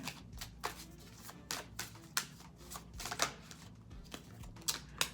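Tarot cards being shuffled by hand, a steady run of crisp riffling bursts and soft slaps repeating about every half second, close and clear with no talking.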